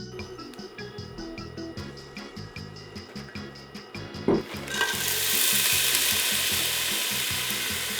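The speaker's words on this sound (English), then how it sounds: "Let's start by sauteing our vegetables in olive oil over medium-high heat until they're soft" Vegetables sautéing in olive oil over medium-high heat: rhythmic stirring and scraping in a pan at first, then a loud, steady broadband sizzle as the food hits the hot oil, with no talking.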